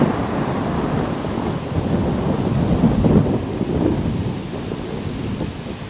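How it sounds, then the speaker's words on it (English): Heavy rain pours steadily in a warm summer storm, a dense broadband roar with a low thunder rumble swelling near the middle and fading again, no voices. "It's raining so much."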